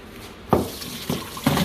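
Water splashes in a kitchen sink as diced russet potatoes are drained, a few short bursts of pouring and splashing against a quiet background.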